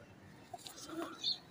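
A Firozpuri pigeon gives a soft, faint cooing, brief low murmurs close by against quiet background noise.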